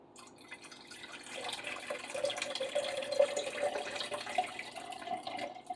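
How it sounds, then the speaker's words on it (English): Distilled water poured into a beaker for pina colada foaming hand soap, a steady trickling and dripping stream that runs continuously at close range with no talk. "here's where we are going to start adding some water. I think we'll add it to our beaker here first."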